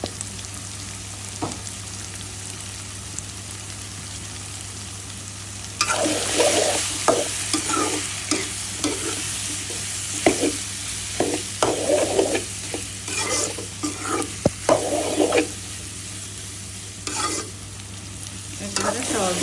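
Mola fish and potatoes with turmeric, chili, coriander and salt sauté in a pan: a faint quiet stretch, then a busy sizzle with repeated scraping and stirring strokes that come in uneven bursts.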